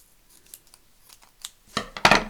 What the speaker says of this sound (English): I don't think I've got a sharp pair of scissors to my name.